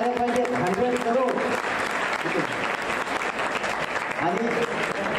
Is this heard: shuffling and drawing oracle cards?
no